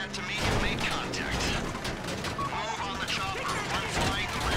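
Dense, rapid gunfire crackles continuously with bursts and booms in GTA Online, loud and close, while voices talk over the shooting.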